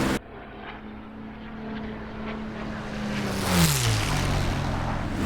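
Propeller drone of a P-51D Mustang's piston engine in the DCS flight simulator, a steady loud roar with a low tone that dips in pitch partway through, alone without talk.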